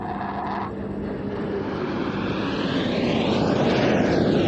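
A Hungarian Air Force fighter jet makes an inverted pass at an airshow in Leszno. Its loud, broadband engine roar swells steadily as it approaches, and a sweeping Doppler-like shift runs through the sound. No voices are heard.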